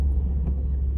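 Low synthetic drive hum from a Mercedes EQS 580 electric car with the Vivid Flux sound setting, a steady deep rumble filling the cabin for about a second without pauses.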